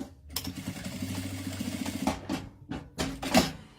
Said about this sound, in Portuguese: Passa a costura, dá bastante retrocesso.